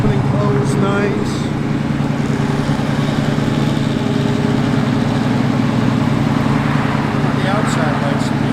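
A 1967 Chevrolet Camaro RS engine runs at a steady idle, a loud, continuous low rumble with an even pulsing rhythm throughout, close by, with a few faint voices in the background.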